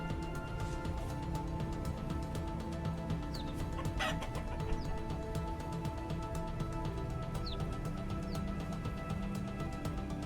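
Chickens in the Vintage Story survival game cluck and chatter steadily over a constant ambient background, with small scattered calls throughout.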